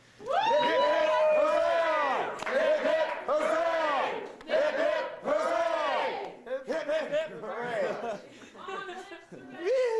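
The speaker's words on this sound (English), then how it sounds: "now we can cheer the man on" A crowd of voices cheering a knight in chorus, loud repeated shouted calls rising and falling in rhythmic bursts, followed by scattered laughter and chatter.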